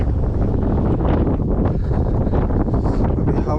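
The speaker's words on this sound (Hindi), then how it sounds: "पश्चिम से पूरब के तरफ बहता और बहुत तेज हवा बा" Strong, steady wind roars across a snowy road in America, blowing hard from west to east as a continuous loud broadband rush buffeting the microphone.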